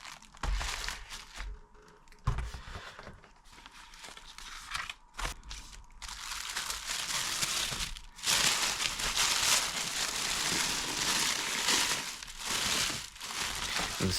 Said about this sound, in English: Let's start with the unboxing experience.